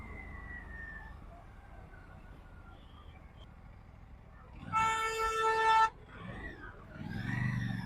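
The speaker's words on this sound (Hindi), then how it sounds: "भाई ये आगे वाला हॉर्न दिया" A vehicle horn blasts for about a second on an Indian road, loud and sustained against steady traffic rumble heard from a motorcycle, with engine noise swelling afterward.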